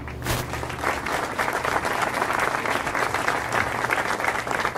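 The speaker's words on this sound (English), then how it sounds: "Please give a warm round of applause for Khushbu." Audience at a startup event giving a speaker a warm round of applause, dense, sustained clapping that stays even and fairly loud for nearly five seconds, with a sharp clap near the start.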